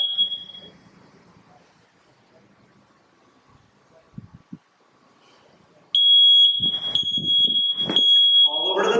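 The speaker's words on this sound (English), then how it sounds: "We're going to set the smoke detector off one last time." A household smoke detector is set off during a fire prevention demonstration: after a quiet stretch with faint voices and a short opening beep, a loud, piercing continuous alarm tone blares on and holds steady under some talking.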